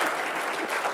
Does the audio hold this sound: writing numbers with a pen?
no